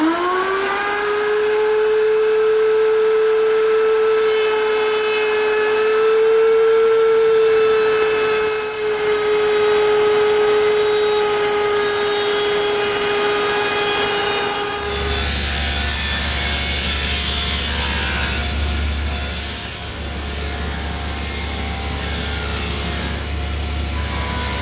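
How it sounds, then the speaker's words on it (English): Router table fitted with a 1/4-inch round-over bit shapes small square wood stock held by feather boards, giving a loud, steady high whine that runs about fifteen seconds before shifting into a rougher cutting roar, with no voices. "I've set up my router table with a 1/4-inch rounding over bit and a couple feather boards to hold the stock in place"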